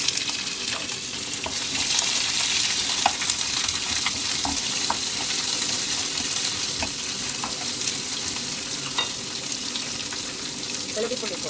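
Onion sizzles steadily in oil in a pan while cooking egg masala, a dense continuous frying hiss with a few sharp crackles and light stirring clatter throughout.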